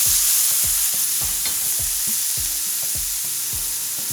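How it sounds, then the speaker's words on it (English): Crawfish sizzling in a hot pan for crawfish butter, with steady frying hiss and regular rhythmic stirring knocks about twice a second, close and fairly loud, no talking. "The crawfish go in."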